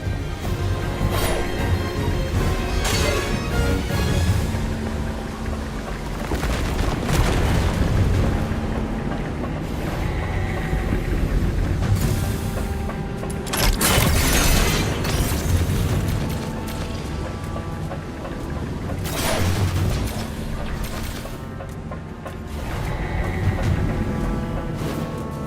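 Cannon bombardment in the video game Duet Night Abyss: a steady rumbling barrage with heavy booming blasts recurring every few seconds, dense and loud throughout, no voices.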